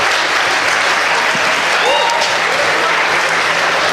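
Crowd at a presidential candidates forum in Selma applauding a candidate, a steady, loud wash of many hands clapping continuously throughout, with some cheering mixed in.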